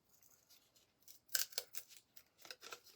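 Scissors snip out paper circles for a Dollar Tree box-book floral arrangement, giving a few soft, close crisp cuts with a couple of sharper snaps in the middle, quiet overall.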